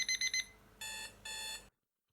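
A LaMetric Time smart clock plays an alarm tone: four quick, bright beeps, then two longer sustained electronic tones, ending abruptly in silence, heard up close with no voices.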